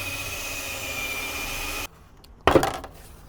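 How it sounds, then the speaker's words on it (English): A power drill drilling out rivets holding a 1985 Ford Fiesta's number plate whirs steadily at high speed, stops abruptly, then kicks in again with a short, harsh grinding burst. "I'm going to actually just drill the rivets out of this now while we have the drill to hand"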